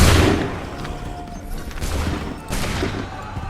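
Musket volleys crack out in the Assassin's Creed 3 video game, a heavy booming blast at the start followed by further rolling gunfire bursts and rumbling reports, loud and close with battlefield noise between.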